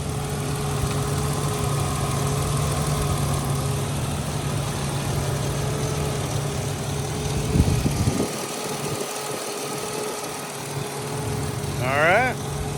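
A 2003 Ford Explorer Sport Trac XLT 4x4 engine hums steadily at idle, then revs briefly higher against its rev limiter, with someone talking over the motor throughout.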